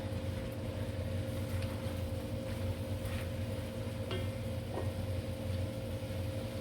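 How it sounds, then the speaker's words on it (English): A steady low whirring drone from an electric fan in a kitchen while pot roast is cooked, a constant hum, continuous and even throughout, with faint clinks and taps scattered above it. "Sorry about the noise from the fan."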